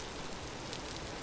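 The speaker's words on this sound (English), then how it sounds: "It's raining. It rains a lot in this biome" Rain falling in the survival video game Vintage Story, a soft, even wash of hiss that stays constant throughout with no talking.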